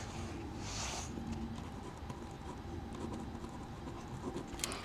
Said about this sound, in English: Let me just write that down